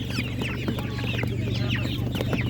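Many chicks at an animal market cheep and peep at once in a busy, continuous chorus, with clucking mixed in and a low steady hum underneath.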